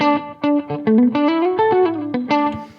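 Electric guitar through a Line 6 HX Stomp preset, with a Rochester compressor, '63 spring reverb and vintage digital delay before the amp, plays a short, lightly distorted melodic phrase of picked notes with reverb tails, alone.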